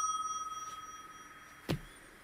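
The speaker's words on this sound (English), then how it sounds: "Get up and answer the phone." A telephone rings inside the video game Gas Station Simulator, a steady warbling electronic trill that fades slowly over about two seconds before a single sharp knock cuts in.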